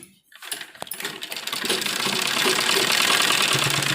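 A sewing machine runs steadily while double-stitching a seam on a kurti during an alteration, starting after a brief quiet moment and building into a continuous close whirring hum that lasts to the end.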